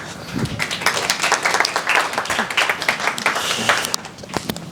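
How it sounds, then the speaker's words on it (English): A seminar audience at a mindful business event applauds to welcome a speaker, a crowd of clapping hands with scattered sharper individual claps, steady for a few seconds before tapering. "let's have a round of applause to welcome Richard"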